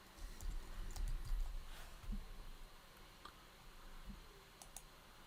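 Faint, sparse mouse clicks during admin configuration in the Centrify Identity Platform on a computer, a few scattered light ticks over a quiet background hum, with no voice.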